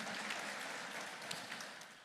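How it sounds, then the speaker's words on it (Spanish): A church congregation applauds during a worship service, a short, quiet but dense patter of clapping that thins slightly toward the end. "Démosle un fuerte aplauso al Señor"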